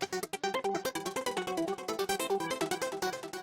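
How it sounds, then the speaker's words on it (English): A bright synth arpeggio runs in quick, even plucked notes, cycling a melodic pattern at a steady tempo, played alone. "So I have this melodic ARP in here"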